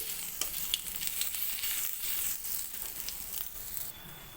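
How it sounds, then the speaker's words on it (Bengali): Panch phoron and ginger paste sizzling in hot oil, a close, bright, continuous crackling hiss with scattered pops and spits throughout. "ফোড়নে দিয়ে দেবো পাঁচফোড়ন ওয়ান টিস্পুন আদা বাটা ওয়ান টিস্পুন"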